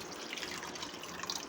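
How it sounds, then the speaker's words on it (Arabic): Water pours steadily into a cooking pot while fish and rice are being prepared, a soft continuous splashing trickle heard up close for a moment with no talking. "هسه نضيف المي."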